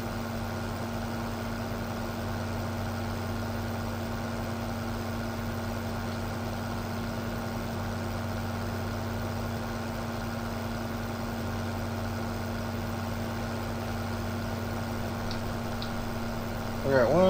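A tractor engine idling in the video game Farming Simulator, a steady low droning rumble that holds evenly throughout, with a person talking over it.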